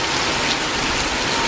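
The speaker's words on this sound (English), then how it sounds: "It is raining." Steady rain falls outdoors, a dense even hiss of drops on surfaces that continues without a break and with no voices over it.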